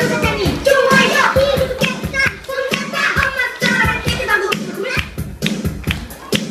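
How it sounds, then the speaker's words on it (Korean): Children and their teacher clap their hands in a room, a series of close, sharp claps over lively children's voices and shouting. "다시 한 박수!"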